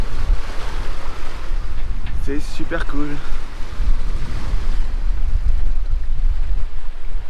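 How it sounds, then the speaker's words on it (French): Sailboat crossing the open Atlantic in an 18-knot wind, with a steady, loud roar of wind buffeting the microphone and waves washing against the hull throughout, while a person speaks briefly midway. "là on a 18 nœuds de vent, voilà ce que ça donne"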